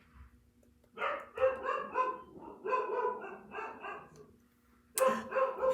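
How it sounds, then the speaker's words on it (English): A dog barks at an arriving visitor, bursts of repeated loud barks close by, a pause, then another bark run. "Sorry about the barking."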